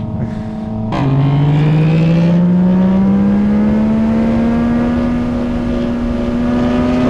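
A Yamaha MT-09 motorcycle engine jumps to a higher rev at about one second, then holds a loud, steadily rising drone while riding.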